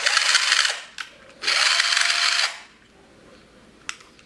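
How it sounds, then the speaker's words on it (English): A Bosch GSR 120-Li cordless drill with a replaced motor whirs in two bursts of about a second each, separated by short clicks, then falls quiet apart from a small click near the end. "motor sounds a bit different"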